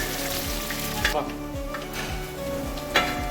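Mustard seeds, garlic and ginger frying in hot oil in a pan, a steady close sizzle with intermittent pops and light scraping of a stirring spoon throughout.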